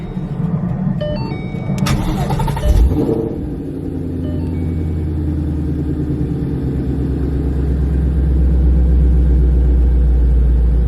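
A 5.0 car engine cranks with a brief starter whine, catches, and settles into a steady low idle rumble that grows slightly louder and fuller, close by with no talking.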